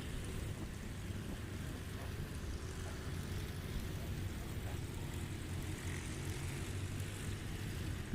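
A propeller-driven STOL aircraft on the runway during a landing competition at Patriot Airpark, a steady, low, distant engine drone holding evenly throughout, faint and without voices.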